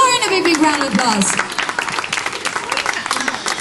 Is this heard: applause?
yes